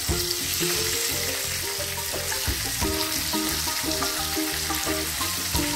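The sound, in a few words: chicken legs frying in oil, being turned over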